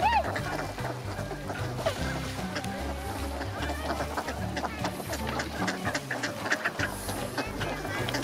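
Wild ducks and other waterfowl quacking and calling at a snowy lakeside near Inawashiro, a busy flock close by with overlapping cries, while people talk nearby.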